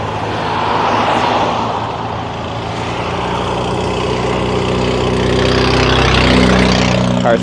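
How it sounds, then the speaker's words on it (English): A car engine labours with a low, heavy drone that swells and sags unevenly, building louder toward the end with a strained tonal whine on a highway roadside. "Car sounds like it's struggling."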